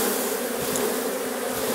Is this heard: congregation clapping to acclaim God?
no